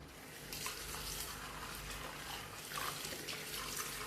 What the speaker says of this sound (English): I've got like a load of jars I need to wash up for the recycling.